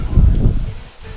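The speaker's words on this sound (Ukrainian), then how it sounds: "О, вітер який." Wind buffets the microphone with a loud low rumble for about a second during the dismantling of a VAZ 2107 car, then eases off a little toward the end.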